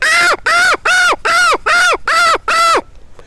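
A performer's voice imitates a crow cawing: seven loud, evenly spaced harsh caws in a steady rhythm, each cut off cleanly, followed by a short silence.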